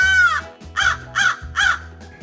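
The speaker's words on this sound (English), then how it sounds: "Look, that's the bird from Hobby Kids Adventures cartoon." A cartoon bird gives one drawn-out cry followed by three loud, harsh caws at an even pace, clear and with nothing over them.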